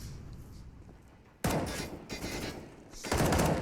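Gunfire in a Counter-Strike match on the map Train, with loud close bursts of rapid shots cutting in sharply over a quieter game background, a second burst following after a brief lull.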